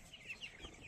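Twenty-five-day-old tiger chickens with thick legs cluck softly and faintly in a steady, low murmur, with no voices over it.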